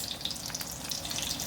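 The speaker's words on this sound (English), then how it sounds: "brown your lumpia on both sides" Lumpia frying in a pan over low to medium heat, a steady bright sizzle and crackle of oil that runs evenly throughout with no voices.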